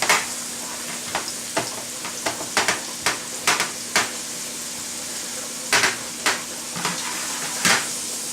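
Garlic fries in a pan for a cauliflower mash side dish, giving a steady close sizzle broken by sharp scrapes and taps as it is stirred, with no talking.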